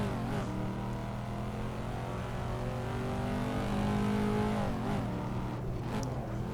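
Corvette C5 Z06 V8 in the Assetto Corsa racing game on the Nordschleife, droning steadily under gentle then full throttle, with a continuous loud engine tone and a brief shift dip, no talk.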